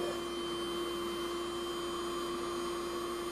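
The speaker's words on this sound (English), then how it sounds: "then brush it into a little pile and vacuum it" A vacuum cleaner sucking up cleaning powder, a steady droning whine with a constant pitch and broad airy rush, uniform and moderately quiet throughout with no voices.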